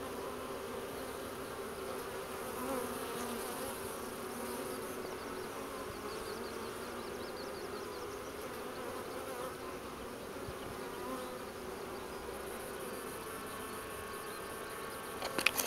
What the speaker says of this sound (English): We got a lot of bees walking around the floor.